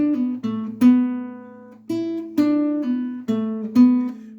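Guitar picking the closing phrase of a theme tune, a short run of distinct plucked notes with clear attacks and ringing sustain, played alone at a steady unhurried pace.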